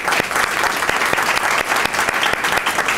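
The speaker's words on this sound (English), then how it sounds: "let's give an applause for Nancy for sharing" An audience at a Delaware health insurance registration event at the Absalom Jones Center applauds Nancy, dense sustained clapping from a room full of people, loud and close.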